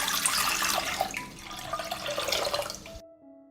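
Water pours steadily into a cooking pot, about one and a half liters, a continuous near splashing gush lasting around three seconds before stopping abruptly, with no talk.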